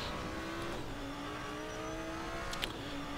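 Race car engine in a racing video game on the short Nürburgring circuit, a steady droning rev with gear-shift dips and a brief sharp high whine near the end, fairly quiet and alone without talk.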